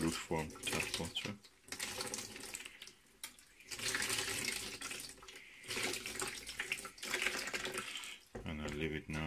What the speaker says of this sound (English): Taking the mirror again under the tap water, lukewarm tap water.